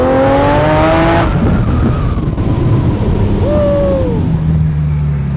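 Straight-piped Lamborghini Aventador Roadster launching hard in first gear, a loud rising engine howl that cuts off abruptly, then rumbles on with roaring wind and a brief rising whine.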